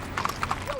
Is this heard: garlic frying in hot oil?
no